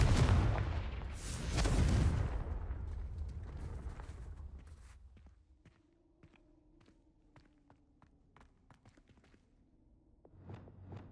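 A Confringo fire spell bursts in Hogwarts Legacy, a loud roaring explosion that rumbles for several seconds before fading into quieter scattered crackles and taps, with a fresh low rumble rising at the very end.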